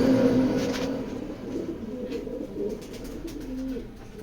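Black racer pigeon, a hen, giving low soft coos at close range over a steady background hum.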